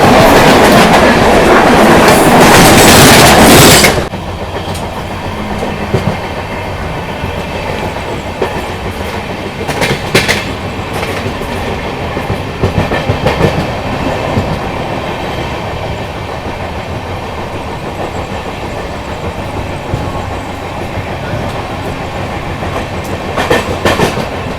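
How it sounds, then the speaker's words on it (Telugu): The Kagaznagar–Secunderabad Superfast Express roars past close by on the opposite track for about four seconds, then the steady clickety-clack of the carriage the listener is riding in takes over, with occasional louder knocks. "మన Kagaz Nagar Secunderabad super fast express అనమాట"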